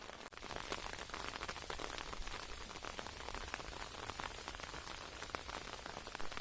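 Quiet summer rain falls on white yucca flowers, a soft steady patter of drops, faint and even throughout, with no voices.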